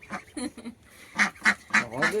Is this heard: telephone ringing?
no